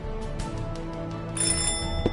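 A doorbell ringing in the Deponia adventure game, a bright ringing chime with sustained tones that swells partway through, heard alone without talk.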